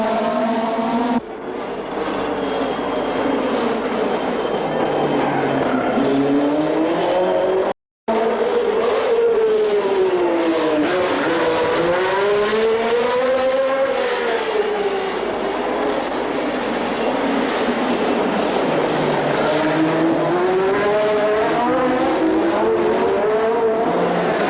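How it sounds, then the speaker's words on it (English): 1960s Formula 1 race cars scream around the Monaco Grand Prix circuit, their loud engines rising and falling in pitch as they pass close by in a continuous stream, with a brief drop-out partway through. "Back on the track, the race settles into its pattern. The cars string out"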